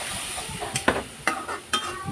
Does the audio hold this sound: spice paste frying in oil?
yes